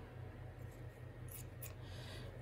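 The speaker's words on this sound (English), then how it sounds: "I'm going to snip a piece of this fabric." Scissors snip through a piece of fabric in a couple of quick, faint cuts over a low steady background hum, with no talking.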